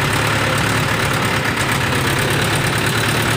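A tractor engine, stopped on a road with a fault after air got into the fuel, idles steadily and loudly at close range with a rough, continuous drone and no speech.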